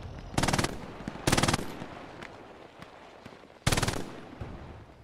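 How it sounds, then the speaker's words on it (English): An MG42 machine gun in the Hell Let Loose game firing three fast, rattling bursts of about a third of a second each, loud and close, with scattered distant shots between them. "Anti-tank Frank on the opposite side with the MG42"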